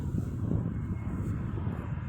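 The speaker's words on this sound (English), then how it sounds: "What the heck is that private jet doing here?" A private jet flying overhead, its steady low engine roar holding broadband and continuous for about two seconds without any talk.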